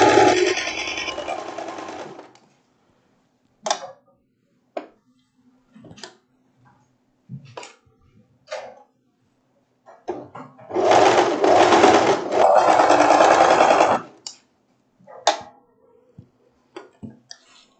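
Sewing machine stitching a wrap dress, a short run of stitching at the start and a longer steady burst in the middle, with scattered clicks and handling taps between, close by and with no talk.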